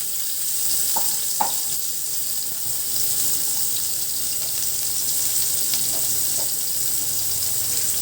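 Onions sizzle steadily in hot oil in a pan, being fried for sweet and sour dried fish; a bright, continuous hiss close up with a few soft clinks of stirring.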